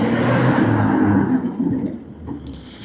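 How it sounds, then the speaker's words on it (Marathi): Road traffic at night, a dense, steady roar of vehicles with a deep rumbling low end that eases slightly toward the end. "बापरे, ट्रॅफिक."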